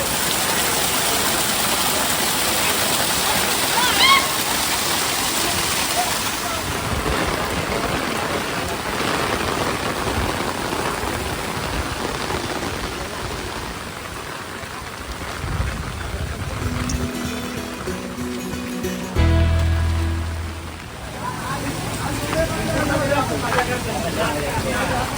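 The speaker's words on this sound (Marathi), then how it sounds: "पाऊस काय थांबत नाही, बंद पण नाही करू शकत, फुल पाऊस आहे" Heavy monsoon rain pours at Bhivpuri waterfall, a dense, steady roar of falling water that crowds the whole scene. A nearby voice talks over it and other tourists can be heard around.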